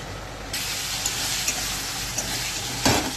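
Spice paste sizzles loudly in hot oil in a pan as it is stir-fried for a potato curry, a sudden onset of broad steady hissing with occasional stirring scrapes, no talking.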